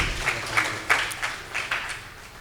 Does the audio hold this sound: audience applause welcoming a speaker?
yes